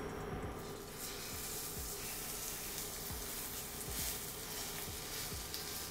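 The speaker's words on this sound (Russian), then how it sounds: "После этого отправляем обжариваться стейк." Beef steak frying in a very hot, smoking pan gives a steady, dense sizzle and hiss that holds at an even level throughout, close and fairly quiet, with no voices.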